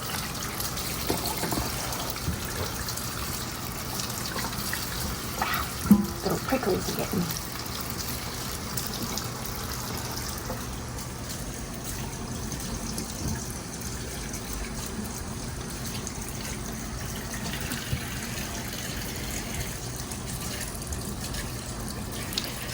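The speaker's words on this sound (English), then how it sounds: "just give them a rinse in cold water" Freshly picked okra rinsed under cold running tap water, a steady low gush of water with occasional clinks and handling noises, while a person speaks briefly over it.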